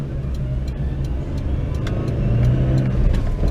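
A Geo Tracker accelerates onto a freeway with early upshifts, its engine droning low and steady from inside the cabin and swelling slightly as it pulls, with no talking.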